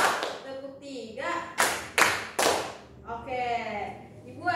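A classroom of students clapping along in a counted rhythm game, a few sharp group claps spaced out between a teacher's spoken counting, loud and close.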